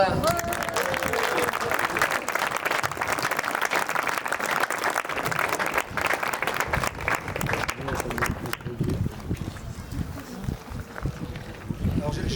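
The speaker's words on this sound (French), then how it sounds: "Je vous demande d'applaudir très fort Fabre Belle qui vient du Havre." A crowd at a summer slam poetry stage applauds for a poet from Le Havre, with sustained clapping outdoors and wind noise on the microphone, easing off toward the end as voices come through.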